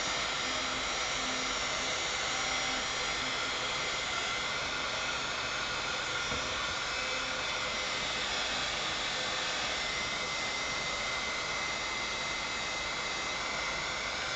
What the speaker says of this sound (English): So I'm pulling my heat gun. Heat gun. Let's try to dry this a little bit.